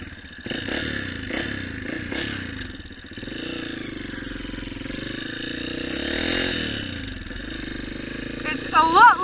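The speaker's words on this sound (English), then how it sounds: "It's a lot louder than my old bike" A motorcycle engine runs steadily as the rider heads out from an arena, a continuous loud drone with some clatter and a rise in revs near the end, a voice talking over it throughout.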